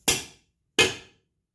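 Two sharp metallic hammer or mallet taps driving a stainless steel clutch pivot pin into place, evenly spaced about 0.7 seconds apart, each ringing briefly before fading into silence.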